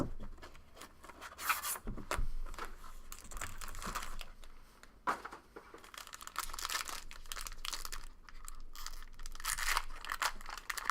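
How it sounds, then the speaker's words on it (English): A seal being cut and torn open on a box of 2013 Panini America's Pastime baseball cards, with a steady run of scratchy slicing, crinkling and ripping bursts close up, no talking. "Cut the seal the whole way."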